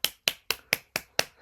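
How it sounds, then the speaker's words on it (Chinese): Seven sharp, evenly spaced claps in a quick steady rhythm, each a crisp isolated hit with clean silence between, like a short applause sound effect. "鼓掌。"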